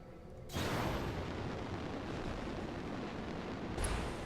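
Heavy BattleMech weapon fire in the BattleTech game: a sudden loud, broadband blast that sustains as a rumbling roar for several seconds, with a second sharp burst near the end.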